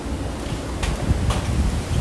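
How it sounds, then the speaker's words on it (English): Strong gusty wind rushes and rumbles outdoors around houses just before rain, a loud, continuous roar with a couple of sharper gusts and no speech. "Oh my goodness, it's so windy."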